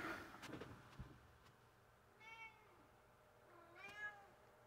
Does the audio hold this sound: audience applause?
no